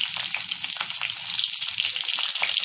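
Green chillies sizzle steadily in hot oil with mustard seeds for Rajasthani besan mirchi, a dense close hiss with faint crackles running throughout.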